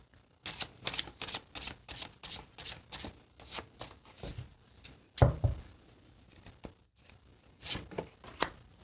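A deck of oracle cards shuffled by hand in quick repeated riffling bursts, close and crisp, with a heavier slap midway as cards are cut or drawn, then more shuffling toward the end.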